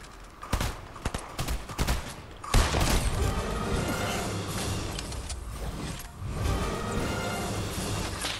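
Gunfire in a video game, sparse shots at first, then dense rapid bursts and continuous shooting with mechanical clatter, loud and close with no talking.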